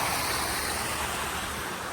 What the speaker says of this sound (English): when we go to the bridge, you can see the 2 waterfalls right here